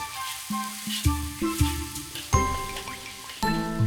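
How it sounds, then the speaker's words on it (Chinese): Doubanjiang bean paste, minced garlic and ginger are stir-fried in a Sichuan kitchen. A spatula strikes the wok with a series of ringing metallic clanks over a close, steady sizzle, and no one speaks. "先下豆瓣酱、 蒜末、姜末、豆丝炒香出色"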